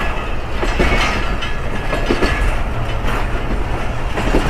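Mohenjo-daro Express passenger train running between Kotri and Rohri in Pakistan, a steady loud rumble of rolling carriages with faint rhythmic wheel clicks over the rails throughout, heard from on board, no voices.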